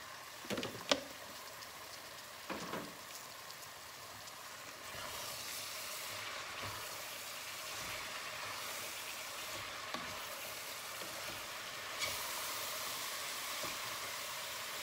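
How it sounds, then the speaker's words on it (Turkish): Leeks and carrots sauté with tomato paste in a pan, a quiet, even sizzle with a few early utensil clicks and soft scraping. "Pırasamız bize biraz kavrulsun."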